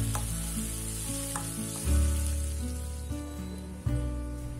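Shallots and chili sauté in hot oil in a pan, giving a steady, loud sizzle with occasional stirring clanks and a low continuous hum running underneath.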